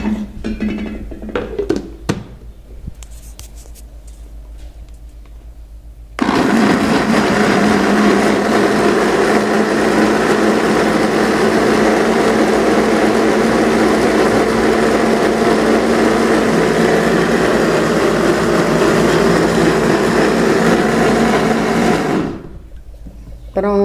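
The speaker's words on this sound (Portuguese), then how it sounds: "Aí com a água que vocês cozinharam o peito de frango, vocês batem ele com o milho no liquidificador" A kitchen blender whirs loudly and steadily for about sixteen seconds, puréeing corn with the broth left from cooking chicken breast, with brief clattering handling sounds before and after the run.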